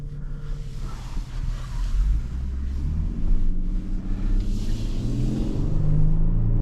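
A 2025 Lexus LX 700h F Sport hybrid SUV accelerating, heard as a steady low engine rumble that builds and grows louder over several seconds, with no talking.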